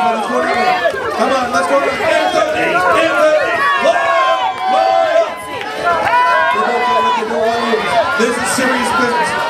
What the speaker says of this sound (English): The louder you cheer, the better they roll.